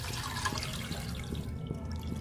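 Water pours steadily into a cooking pot for boiling pork belly for lechon kawali, a continuous close splashing and gurgling wash with faint drips, heard alone without talk.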